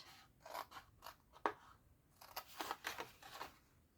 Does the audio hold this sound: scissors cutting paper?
yes